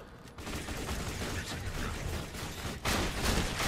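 Steady, muffled gunfire from Borderlands 2 rattles continuously at moderate volume, with a louder burst near the end.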